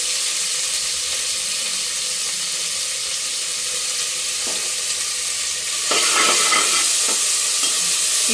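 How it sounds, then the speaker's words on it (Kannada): Cut mint and fenugreek leaves are tossed into hot oil in a pan while tempering for a mutton head-and-trotters sambar, giving a steady broadband sizzle that swells louder with stirring scrapes in the last few seconds. "ಪುದೀನ ಮೆಂತ್ಯ ಸೊಪ್ಪು ಕಟ್ ಮಾಡ್ಕೊಂಡು ಜೊತೆಗೆ ಹಾಕ್ತಾಯಿದ್ದೀನಿ"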